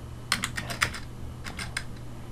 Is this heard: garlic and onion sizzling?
no